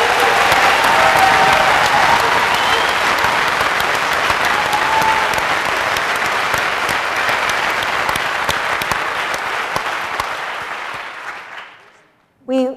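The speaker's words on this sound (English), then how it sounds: "Clap if you believe that." Sustained audience applause fills a union forum hall, dense and steady for about eleven seconds before tapering off abruptly near the end.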